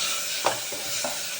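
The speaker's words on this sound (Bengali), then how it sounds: "সাথে দিয়ে দিলাম চিকেনটা, এবার এগুলোকে ভালো মতো নেড়ে চেড়ে নেবো।" Chicken pieces stirred in a pan with very little oil, a brief close sizzle with a couple of quick scraping spatula strokes.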